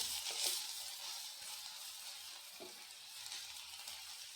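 Taro stems frying as a thoran in a pan give a steady, soft sizzle with a few faint stirring scrapes, close and even throughout, with no one speaking.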